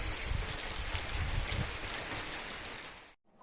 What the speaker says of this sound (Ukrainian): Ох, який гарний дощ.